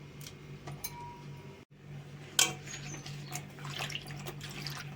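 Tap water runs over green chilies being washed in a kitchen sink, a soft steady trickle broken by a brief pause, a sharp splash and light clinks, no talking.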